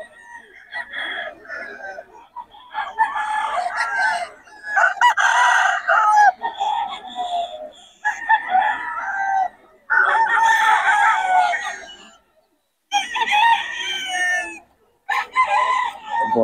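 Several roosters crowing at a Bocaue chicken market, repeated loud, close cock-a-doodle-doo calls in overlapping bursts with short clucks and brief gaps between them.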